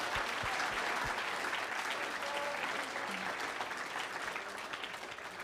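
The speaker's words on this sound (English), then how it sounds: "So can we give them one more round of applause?" Steady applause from a crowd at an on-stage storytelling event, a few sharper nearby claps at the start giving way to an even, moderately distant wash of clapping that tapers slightly.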